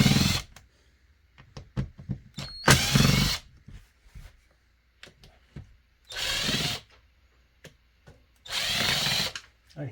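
A power screwdriver backs Phillips screws out of a Remington Mighty Mite chainsaw in three loud, close whirring bursts of a second or so each, separated by quieter clicks and handling taps.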